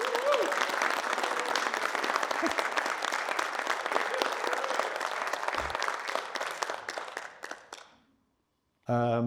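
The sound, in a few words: applause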